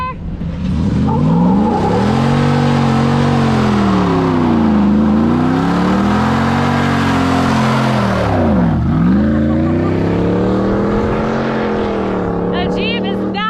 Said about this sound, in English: So as you can tell, the Jeep can finally do a burnout.